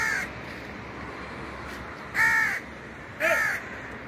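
Crows caw on a rooftop, two loud, harsh calls about a second apart, then a fainter call, with quiet surroundings between them.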